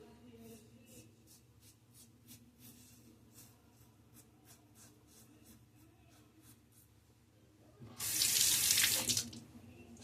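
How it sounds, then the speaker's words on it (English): A tap runs into a sink for a splash of water during a wet shave, bursting out loud for about a second near the end after quiet faint scraping strokes. "Splash of water."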